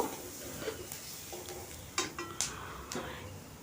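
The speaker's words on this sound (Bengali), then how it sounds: "এরপর এটাকে নেড়ে নেড়ে একটু ভেজে নেব" A spatula stirs mashed potato with turmeric frying in a pan, giving a few soft scrapes and sharp metallic clinks over a faint, low sizzle, all fairly quiet.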